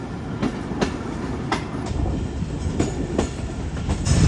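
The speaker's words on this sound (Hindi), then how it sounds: "11:40 पर ट्रेन हमारी अप्रोच बना रही है चीचावती रेलवे स्टेशन पर।" A Pakistan Railways passenger train rolls slowly into Chichawatni station, a loud steady rumble with periodic clickety-clack wheel beats over rail joints, close and continuous.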